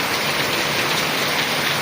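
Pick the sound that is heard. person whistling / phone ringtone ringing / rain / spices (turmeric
rain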